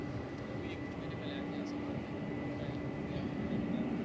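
A Cathay Pacific airliner at DFW airport, a distant, steady jet rumble with a faint whining tone, heard under a person talking.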